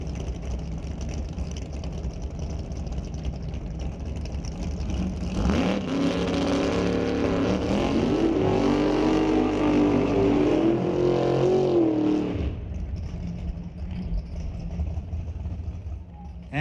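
A 1969 Chevy Camaro drag race car at a drag strip, a steady engine drone that swells into a loud, roaring run for several seconds before dropping back to a lower rumble.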